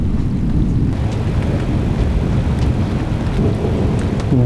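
Thunder rumbling during a storm at sea aboard a sailboat under spinnaker, a heavy, steady low roar mixed with rain and wind noise, loud and continuous.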